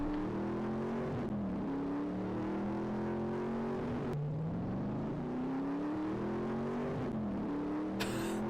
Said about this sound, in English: I love the way that engine sounds.